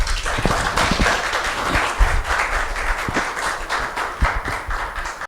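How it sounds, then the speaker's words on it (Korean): A church congregation gives welcoming applause to a guest missionary speaker during a Sunday service, with steady clapping and a few sharper, louder claps standing out near the listener, and no speech. "우리 뜨거운 환영의 박수를 해주시기 바랍니다"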